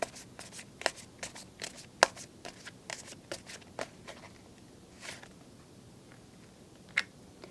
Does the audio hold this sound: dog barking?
no